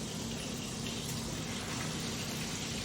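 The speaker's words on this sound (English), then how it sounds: "That's sizzling up nicely now." Steak sizzling in a hot pan with butter, giving a steady, dense crackling hiss that runs unbroken and close throughout, with no voices over it.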